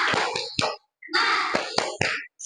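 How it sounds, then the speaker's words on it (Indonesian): A primary school class in an Indonesian civics lesson performs a rhythmic spirit clap, sharp hand claps in a patterned sequence with chanting voices between bursts, close and loud. "Tepuk semangat."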